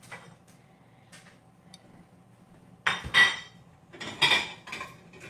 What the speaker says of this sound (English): Let me grab a plate